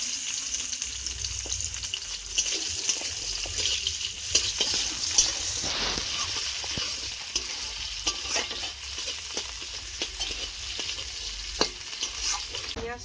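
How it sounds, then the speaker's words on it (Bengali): Onion and green chili frying in hot oil in a wok, a steady close sizzle that runs throughout, with spatula stirs and scrapes scattered over it and no voices. "পেঁয়াজ আর কাঁচা লঙ্কা দিয়ে দেবো তেলে।"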